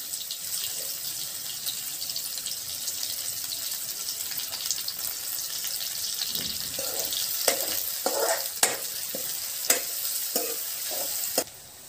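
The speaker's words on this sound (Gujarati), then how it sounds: "હવે થોડોક લીમડો નાખી દઈ." Curry leaves go into hot oil for a Gujarati tempering with onion, giving a steady hiss and crackle, then a run of sharp stirring and scraping knocks from a spoon in the pan over the sizzle.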